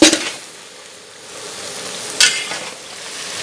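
Vegetables for a large pot of khichuri and tarkari, cooked for 200 people at a Lakshmi puja, are stirred and scraped in a cooking pot, sizzling steadily, with sharper stirring strokes standing out near the start and again later.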